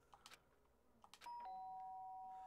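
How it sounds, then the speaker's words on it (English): A doorbell rings in the Danganronpa Trigger Happy Havoc video game. A two-tone ding-dong chime follows a few soft clicks and then rings out clearly, sustaining with a long fading tail. No one speaks. "did I hear the doorbell?"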